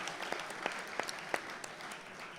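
Light, sparse applause from a small audience at a community forum in a community center, a handful of distinct claps standing out over soft, fairly distant clapping.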